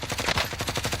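Rapid automatic gunfire in a video game, a steady stream of evenly spaced shots at moderate loudness, about ten bursts in one second.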